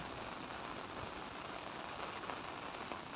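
Rain falls steadily at a home in Thailand, a soft, even patter of drops on surfaces with no voices, a constant wash of moderate loudness.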